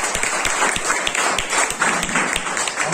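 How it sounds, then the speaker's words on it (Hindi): A church congregation at a Sunday morning service in Lucknow claps together, a brisk, fairly close patter of many hands with distinct sharp slaps throughout, steady and unbroken, with no talking over it. "जोरदार प्रोजेक्टर के लिए ताली बजा सकते हैं।"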